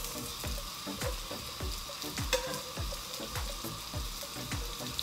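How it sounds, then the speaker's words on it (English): Onions and garlic sauté in olive oil in a skillet, giving a constant sizzle with regular rhythmic taps and scrapes as they are stirred, close and alone. "now I'm gonna add the onions and the garlic"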